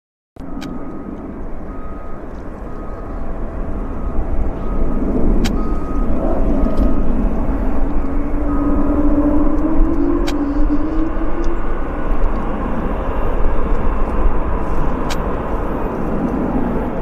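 An All Nippon Airways Boeing 787 arriving at Vancouver airport, heard as a steady broad engine rumble and rising whine that holds for the whole stretch, with faint beeps and ticks around it and no talking.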